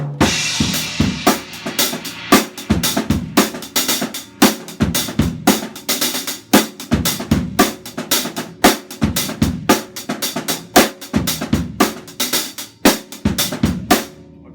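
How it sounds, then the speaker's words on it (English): Close, loud drum kit playing a linear African groove with hi-hat variations and quiet snare ghost notes between sharp accents, a busy continuous rhythm throughout. "probably variations with the hi hat and ghost notes that could sound something like this:"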